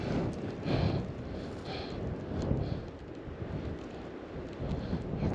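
Cold wind blowing across an open hillside during a mule deer hunt as weather moves in, heard as a steady low rushing roar of gusts buffeting the microphone, swelling and easing with no voices.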